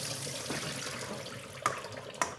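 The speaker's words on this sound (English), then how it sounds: "we're just gonna strain our vegetables" Pickled vegetables being strained, with a steady flow of running liquid close by and two sharp clinks near the end.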